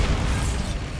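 Bombarda blasting spell going off in Hogwarts Legacy inside a decayed catacomb, a dense rumbling burst that stays loud and full through the whole second without any voice.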